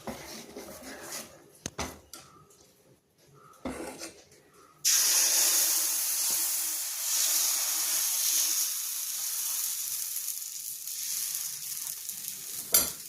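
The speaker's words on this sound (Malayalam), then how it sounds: "നമുക്ക് ദോശ പൊരിക്കാം." Ada dosa batter with lentils fries on a hot stone griddle in sesame oil, a loud steady sizzle bursting in partway through and holding strong to the end after a few scattered knocks and clatters beforehand.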